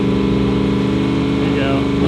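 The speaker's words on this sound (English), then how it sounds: "Rev it up, rev it up." A turbocharged or twin-charged race vehicle engine at a rally runs loud and close, holding a steady, heavy rumble with layered harmonic tones rather than sharp rising revs.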